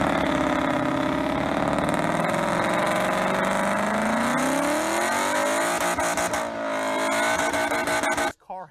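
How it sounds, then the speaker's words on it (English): A Ford Mustang with no mufflers and no catalytic converters roars and revs continuously, pitch climbing and falling, close by, then cuts off abruptly near the end. "this car has no mufflers, no cats on the downpipe. It's going to be loud."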